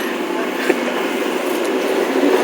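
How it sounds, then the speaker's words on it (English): A Bernina-line train from Tirano to St Moritz runs through the Alps, giving a steady, continuous rumble and rolling noise heard close from inside the carriage, with faint voices and a brief click near the middle. "the train started to make its way down"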